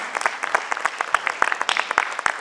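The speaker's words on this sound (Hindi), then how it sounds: "दर्शकों के लिए एक विशेष जोरदार तालियां कलाकारों की तरफ से" An audience claps for the actors after a stage play, quick irregular clapping from a modest crowd close by, fairly loud and continuous without speech.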